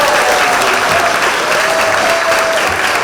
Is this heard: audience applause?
yes